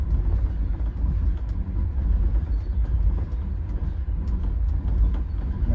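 Steady low rumble of a passenger train departing and rolling along the tracks in Ukraine's Cherkasy region, with faint clicks and rattles throughout, continuous and fairly loud.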